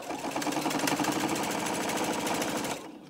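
Sewing machine running steadily while stitching a hem close to the fabric's inside edge, a continuous rapid mechanical whir with a fast needle rhythm lasting nearly three seconds before stopping.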